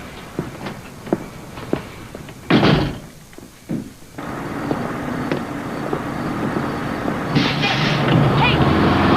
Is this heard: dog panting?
no